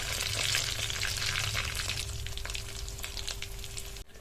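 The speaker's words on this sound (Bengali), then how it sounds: "তেলের মধ্যে বেগুন ভাজলে কিন্তু বেশিক্ষণ ভাজতে সময় লাগে না।" Sliced eggplant fries in hot oil, giving a loud, continuous broadband sizzle with crackles and light spatter throughout, briefly dipping near the end, with no voices.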